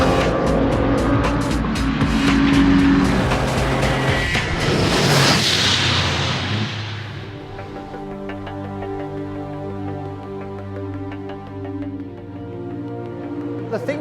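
An Aston Martin Rapide race car in the Nürburgring 24 Hours, its engine roaring loudly past with a swelling then fading whoosh, followed by a steadier tonal engine drone while a voice talks underneath.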